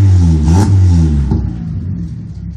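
Car fitted with a sport muffler revving hard, a loud throaty exhaust roar that climbs, dips and climbs again before dropping back to a low rumbling idle, close up and alone.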